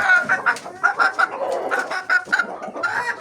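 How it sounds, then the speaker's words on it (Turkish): A flock of hens clucking and squawking close by as they are given feed, busy overlapping calls in quick bursts. "Size yem vereceğim."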